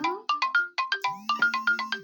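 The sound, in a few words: mobile phone ringtone ringing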